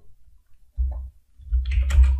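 A few quick keystrokes on a computer keyboard tap close by, a short burst of typing at the end of a brief pause.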